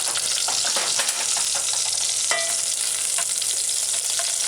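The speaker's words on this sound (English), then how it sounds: "the chicken took about 5 to 6 minutes to fry" Chicken frying in hot oil, a loud continuous crackling sizzle with dense popping, close and steady throughout, with occasional faint clinks.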